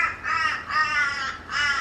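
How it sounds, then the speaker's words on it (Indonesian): A crow caws three times in a steady rhythm, loud and fairly close, over quiet household surroundings with no talking. "Di sini tuh banyak burung, macam-macam burungnya."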